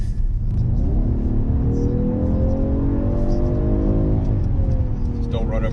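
A 2019 Mercedes-Benz AMG GT 53 accelerates hard, its engine note rising loudly as the car pulls away, heard from inside the cabin with some voices over the rumble.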